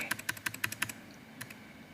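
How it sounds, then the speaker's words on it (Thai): Fingers tap a vehicle chassis number on a computer keyboard, a quick run of about eight crisp, close keystrokes followed by a pause and a few more taps over quiet room tone. "ผมก็จะพิมพ์นะครับตามหมายเลขถัง x ห้าศูนย์ ศูนย์ศูนย์ สองสี่"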